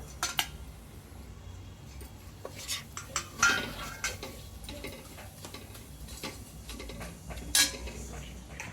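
Spices including turmeric and red chilli powder being sautéed and stirred in a pan for samosa filling, soft sizzling under clattering metal scrapes and taps of a spoon, with a few sharper clinks.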